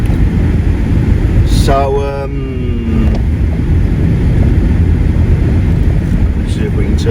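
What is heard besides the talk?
Peugeot 309 heater fan blowing noisily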